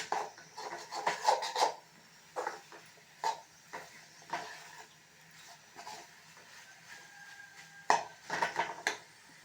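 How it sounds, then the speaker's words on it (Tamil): A metal spoon scrapes and clinks against a pan while avarakkai and egg poriyal is stirred, repeated irregular scraping strokes in short bursts, close and fairly loud with no talking. "நல்லா காயோட மேஷ் ஆகணும் அந்த அளவுக்கு நம்ம ட்ரை பண்ணுற அளவுக்கு கிளறிக்கிட்டே இருக்கணும் அடி பிடிக்காமல் கிளறணும்"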